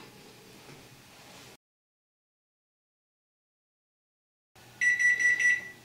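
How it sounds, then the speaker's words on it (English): A kitchen oven timer beeps in a rapid, loud burst of repeated electronic tones near the end, after a stretch of kitchen background and silence while baked BBQ chicken finishes cooking. "Okay, the timer is beeping,"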